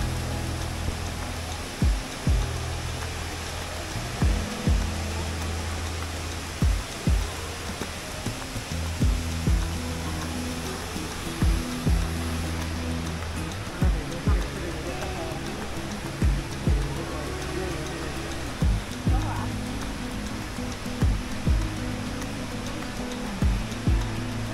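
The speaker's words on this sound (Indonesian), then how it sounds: "Oke, jadi kita udah sampai di Jewelnya nih ya, di air mancurnya. Katanya sini air mancur terbesar di Singapura dan mungkin di dunia juga ya" Indoor waterfall at Jewel Changi, Singapore's largest, pouring as a steady broadband rush of falling water throughout, with a recurring low rhythmic thumping underneath.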